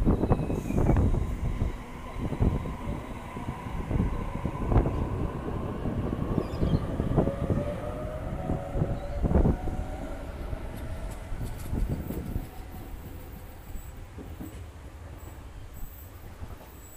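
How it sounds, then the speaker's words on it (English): A Sydney Trains Waratah electric train pulls out of platform 3 at Denistone station with a rumbling, clattering roll of wheels over the rails and faint squealing tones. It rises and fades steadily over about seventeen seconds. "Our friendly neighbourhood Waratah is now departing platform 3"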